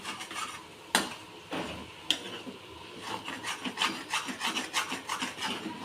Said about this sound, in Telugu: ఇట్లా గీరుకుంటూ వేపుకోవాలండి